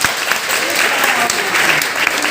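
Audience clapping steadily and continuously at a street magic show, with a dense wash of many hands close by and no pause for about two seconds.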